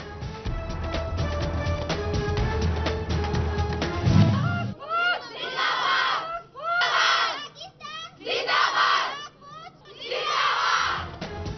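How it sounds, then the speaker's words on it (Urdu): Female students of a women's university in Faisalabad chant slogans in support of the Pakistan army, rising in four loud rhythmic bursts of many young voices after a noisy opening stretch. "پاک فوج کے حق میں نعرے بازی"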